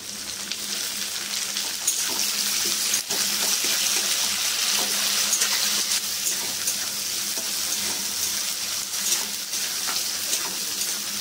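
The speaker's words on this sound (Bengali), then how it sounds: "এবার এর মধ্যে টমেটো কুচনোটা দিয়ে দেবো।" Steady sizzling and frying of chopped tomato added to fried potatoes in a pan, cooked for a Bengali thor posto dish, loud and continuous with faint stirring, no talk.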